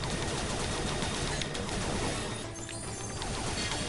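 Dense, continuous video game gunfire with crashing impacts fills the whole stretch, loud and close with no pauses.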